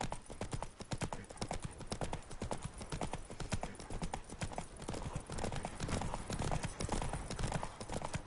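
Roach, a horse in The Witcher 3: Blood and Wine, gallops with a rapid, continuous clatter of hooves at steady loudness, and a faint voice is heard now and then.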